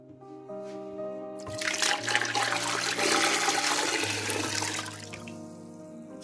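Water pours steadily into a pot of pork for broth, a loud rushing stream over a continuous hum, building up and then tapering off, with no talking.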